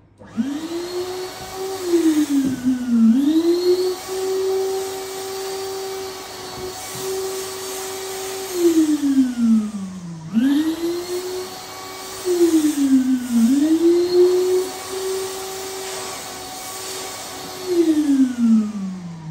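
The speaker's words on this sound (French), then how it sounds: "je vais venir envoyer de la vapeur et aspirer en même temps" A steam vacuum cleaner steams and sucks at the same time, whirring loudly, its motor pitch rising and falling in two repeating cycles, with a steady hiss running underneath.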